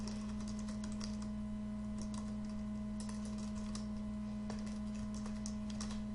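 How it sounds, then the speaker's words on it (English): Keystrokes on a computer keyboard as a poll question is typed, light irregular clicks running steadily over a constant electrical hum, with no talking. "So we click on poll, and then we type in a question."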